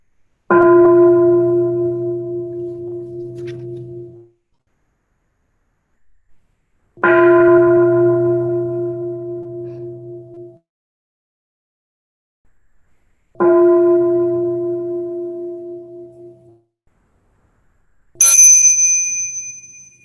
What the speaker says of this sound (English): We will hear 3 sounds of the bell to get us started.